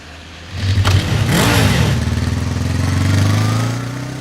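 Motorcycle engine starts up close by and settles into a steady, throbbing idle with a brief rev, loud and alone without talk.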